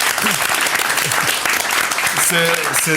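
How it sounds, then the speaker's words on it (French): Studio audience applause on a Swiss French-language TV program, a dense continuous clapping heard close and loud, with voices talking over it toward the end. "on peut l'applaudir, comme ça lui fera un encouragement"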